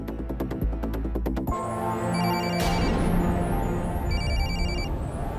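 A phone ringtone plays a bright, repeating electronic melody, loud and close, with a rhythmic beat, continuing for several seconds.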